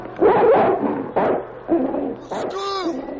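A dog snarls and barks in a series of short, loud, aggressive bursts, ending in a higher yelping howl.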